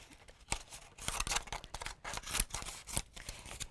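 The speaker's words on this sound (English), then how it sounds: "what I do is I like to cut just the edge off" Scissors cutting around the edge of a paper plate with quick, close, crisp snips in an uneven rhythm, heard alone without speech.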